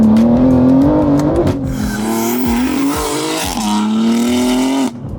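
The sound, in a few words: BMW G80 M3 doing test runs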